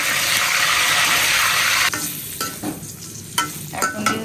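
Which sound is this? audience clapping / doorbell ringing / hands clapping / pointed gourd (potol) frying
pointed gourd (potol) frying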